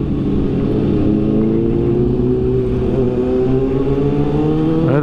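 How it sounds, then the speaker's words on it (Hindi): A loud Kawasaki Ninja H2 motorcycle engine drones steadily, then its pitch rises as it revs up near the end, with no voices. "हम लोग स्लो भी चल रहे तो बाइक का आवाज़ इतना हो गया"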